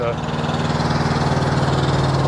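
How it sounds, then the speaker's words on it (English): A steady, loud mechanical drone with a low hum and rapid pulsing runs throughout, from an auxiliary power unit (APU) running nearby outdoors under trees. "You can hear my noisy APU going on right now"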